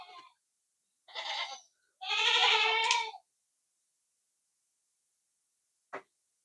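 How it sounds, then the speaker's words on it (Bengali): Male goats penned in a shed on a farm give two loud, close bleats in quick succession, with a brief faint bleat at the start and a short sharp click near the end, with quiet between. "ওই যে দেখেন এইখানে তিনটা ছাগল আছে"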